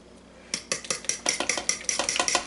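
An egg and salt being mixed into a bean bread dough base with a utensil in a bowl, rapid rhythmic clinking and scraping strokes that start after a short quiet pause and continue steadily up close.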